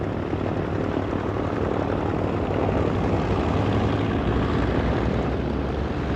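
The radial engines of B-25 Mitchell bombers, C model, drone in flight as a dense, continuous roar that holds loud and steady throughout with no pauses.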